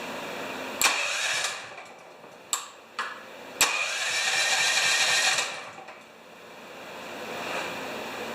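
A 420 cc clone engine being started: a few sharp cranking knocks, then a rough, raspy run that swells, drops away and slowly builds again, close up with no talking.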